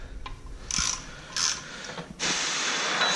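A 3/8-inch ratchet wrench with a 6-inch extension and 10mm socket clicks as it loosens bolts on a 2014 Chevy SS, in three bursts of rapid ratcheting, the last one long and steady, close up.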